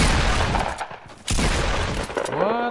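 Gunfire in the Fortnite battle royale game, loud, dense bursts of rapid shots that break off briefly and then resume, with a rising electronic tone at the end and talk mixed in.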